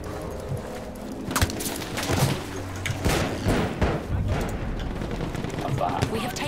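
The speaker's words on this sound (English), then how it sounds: "It's the artillery cannon." Artillery cannon fire and gunfire boom across a Battlefield 1 battlefield. Heavy thuds and crackling shots go off at irregular intervals over dense, noisy combat ambience, with voices shouting in the mix.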